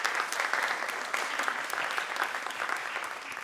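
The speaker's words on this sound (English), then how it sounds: "Have a round of applause." An audience claps steadily, a dense burst of applause at moderate volume with no talking over it.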